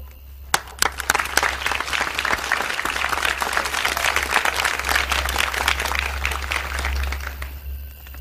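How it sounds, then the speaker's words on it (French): An audience breaks into sustained applause, a dense wash of clapping that swells and continues for several seconds over a low steady hum. "Moi, on m'applaudit."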